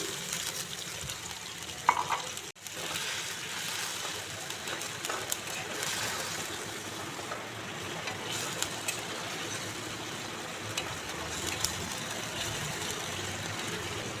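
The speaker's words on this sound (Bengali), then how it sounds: "গ্যাসের ফ্লেমটাকে লো রেখে কিছুক্ষণ কুক করে নিচ্ছি।" Katla fish curry cooks covered in a pan over a low gas flame, giving a soft, steady bubbling sizzle with faint clinks throughout and one brief dip early on.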